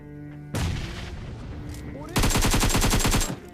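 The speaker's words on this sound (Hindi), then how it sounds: "मैंने ग्रेनेड की पिन खींची और भाई एकदम परफेक्ट टाइम पे फेंकने वाला हूँ।" A grenade goes off in the mobile battle-royale game PUBG Mobile with a sudden loud blast and lingering rumble, followed by a burst of rapid automatic gunfire.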